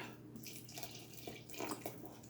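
Water is poured into crepe batter with milk in a bowl, a continuous splashing trickle with a few brighter gurgles, fairly close and alone.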